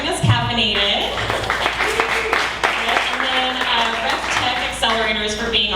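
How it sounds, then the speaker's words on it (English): Applause from the audience at a community startup meetup, clapping mixed with talk and voices; tonal voice-like bands appear throughout, so speech or chatter runs under and alongside the hands. "so a big round of applause for Crew 2"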